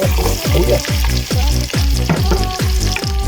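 Pork steak frying in a pan, a loud continuous sizzle with rhythmic surges as the meat is stirred or moved, close and steady with no talking.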